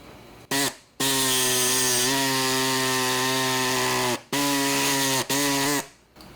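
A high-pitched power cutting tool trims a plastic license plate frame, whining loudly in several sustained bursts separated by short pauses.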